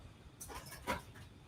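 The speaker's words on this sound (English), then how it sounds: "your puppy's chiming in" A puppy makes short whimpering, panting noises in the background, a brief faint yelp rising near the end of a short quiet stretch.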